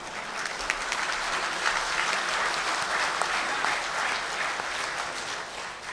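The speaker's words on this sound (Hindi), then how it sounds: "इसमें तो बड़ी तालियां आना चाहिए" Listeners at an Urdu poetry mushaira in Doha, Qatar, give steady, continuous applause. It is a broad, even wash of many hands clapping at once, with no talk over it.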